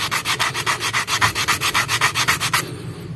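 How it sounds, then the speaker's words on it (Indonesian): Sandpaper rubs back and forth on a small handmade wooden fishing lure, a Jaws Mini about 2.7 cm long, in a fast, even rhythm of roughly twenty close, scratchy strokes that stop abruptly. "sobat bisa gunakan amplas"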